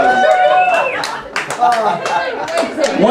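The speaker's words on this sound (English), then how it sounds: "ladies and gentlemen, give them an applause" Comedy roast audience breaking into scattered clapping and laughter, with whoops and voices talking over the sharp, uneven claps at close range.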